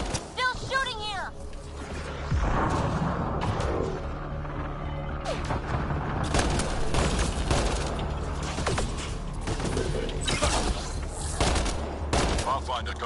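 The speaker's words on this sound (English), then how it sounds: "Still shooting here!" Gunfire in the sci-fi shooter Mass Effect Andromeda: dense bursts of rapid automatic shots and fusillades crackle almost without pause, with clattering mechanical effects and voices talking over the combat.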